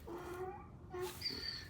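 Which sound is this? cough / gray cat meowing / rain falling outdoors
gray cat meowing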